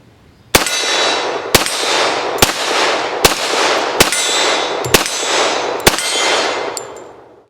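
Taylor's classic 1911 pistol fires eight sharp, loud shots at an outdoor range, spaced about a second apart, each crack followed by a ringing echo, with no talk.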